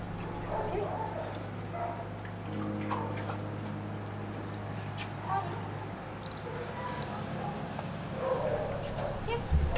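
A dog being fitted with a harness whimpers and lets out small yips during the handling, its soft whines rising and falling under a person's calm instructional talk, with a low steady hum behind.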